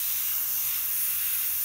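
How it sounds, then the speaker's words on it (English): Airbrush spraying paint along the edge of a scrap of paper, a steady, close, airy hiss that holds level for a short burst without breaks. "spray half on, half off your edge"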